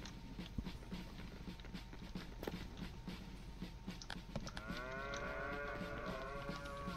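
In the game Attack On Toys, scattered clicks and knocks come first, then a cow lets out a sustained, close, full moo that carries through the last couple of seconds.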